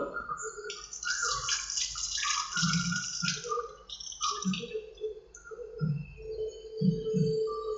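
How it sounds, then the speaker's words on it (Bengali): Water runs from a tap and splashes as hands are rinsed, a continuous close trickle with bubbling and dripping that rises and falls throughout. "আমি হাতটা ধুয়ে নিই।"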